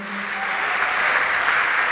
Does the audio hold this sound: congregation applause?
yes